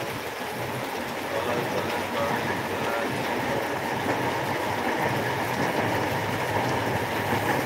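An LRT-1 light rail train on a Cavite extension test run in the rain rumbles past with steady clickety-clack over the rails, a continuous, fairly close roar mixed with rainfall.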